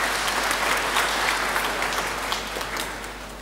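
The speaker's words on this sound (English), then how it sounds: "Let's give them a clap." A congregation at a requiem mass gives the choir a steady round of clapping, dense and even from start to finish and fading gently toward the close.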